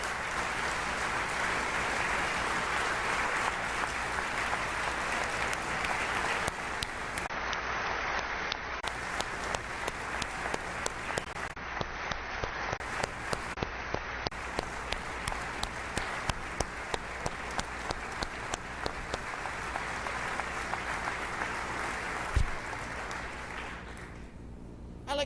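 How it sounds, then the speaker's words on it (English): Sustained applause from a large audience at a state address in the Oklahoma legislature, a dense steady roar of many hands lasting over twenty seconds, with rhythmic unified clapping emerging toward the end before it fades. "Let's give them a round of applause."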